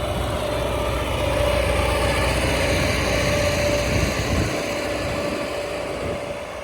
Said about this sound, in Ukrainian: Так працює культиватор.